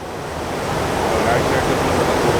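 Water at Ripple Waterfalls near Sree Narayanapuram, Munnar, swollen after a night of rain, pours with a steady broadband roar that holds constant and loud throughout.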